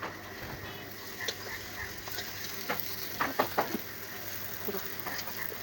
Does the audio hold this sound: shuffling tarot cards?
no